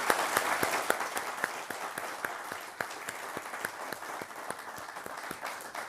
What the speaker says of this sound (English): I would like you to join me in a round of applause